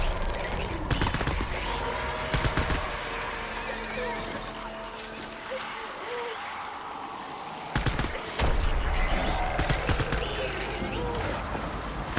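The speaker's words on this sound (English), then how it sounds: "brother keeps popping off shots that I am not taking" Scattered gunshots and short automatic bursts in Death Stranding, fired by a companion character, loud and close, recurring irregularly over a rumbling game ambience.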